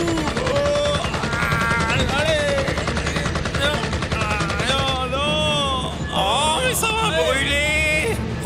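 A machine gun fires continuously in the video game Choo Choo Charles, a loud rattling stream of shots mixed with game sounds and voices.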